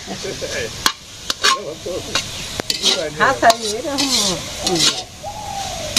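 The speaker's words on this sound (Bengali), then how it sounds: "শাক ভাজি হইতেছে" Leafy greens fry and sizzle in a pan while being stirred. A steady hiss runs throughout, with scraping and clinking strokes, and voices are heard faintly in the background.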